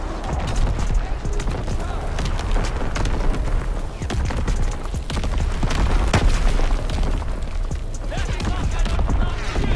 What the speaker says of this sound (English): Artillery ready for orders, awaiting coordinates. Firing primary battery.